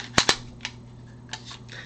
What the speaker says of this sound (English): And we're going to clear the Canik as well.